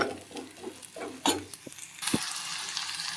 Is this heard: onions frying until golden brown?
yes